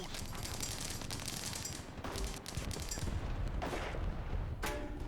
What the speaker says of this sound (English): Game ends in a firing frenzy of no pen each other.